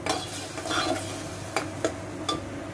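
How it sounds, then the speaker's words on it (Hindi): Masala for a mushroom, peas and cream dish roasting on high flame in a pan: a steady sizzle broken by several sharp metal spatula scrapes and clinks, near and distinct, with no speech. "हाई फ्लेम पर हमें इसको अच्छे से भूनना है।"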